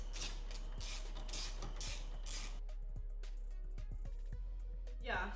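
A ratchet wrench works 10 mm nuts while a performance intake goes onto a BMW N52/N51 engine, giving faint, quiet, irregular clicks and small mechanical rattles over a low background hum.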